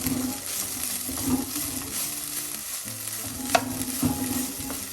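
Violet cabbage thoran fries on a low flame, a steady close sizzle broken by a few sharp spoon or pan clinks as it is stirred, with no talking.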